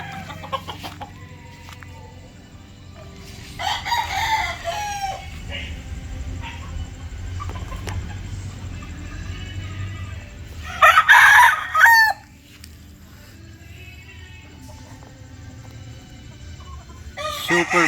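A Super Brown Red fighting rooster crows loudly up close, two full cock-a-doodle-doo calls several seconds apart plus softer clucking, with someone speaking intermittently and a start of another crow at the end.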